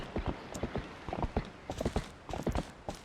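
Horse hooves clip-clopping in The Legend of Zelda: Twilight Princess, a steady run of hoofbeats with an uneven rhythm, close and fairly loud, and no talk over it.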